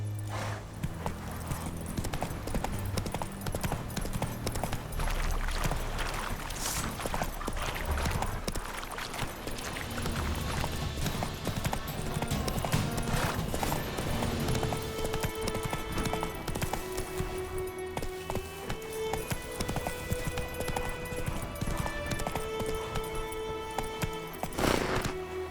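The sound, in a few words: horse Roach galloping in The Witcher 3 video game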